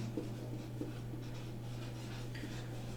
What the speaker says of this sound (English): So let me write it as working rule.